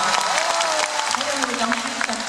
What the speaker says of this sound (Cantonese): 聽到你哋溫暖嘅掌聲